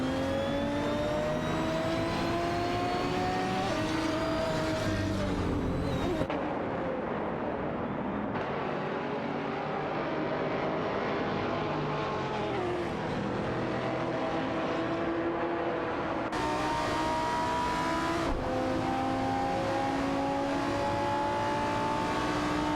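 Aston Martin DBS9 race cars in a racing video game, engines droning and shifting pitch continuously as they accelerate and change gears along the track, one car's tone dominating up close.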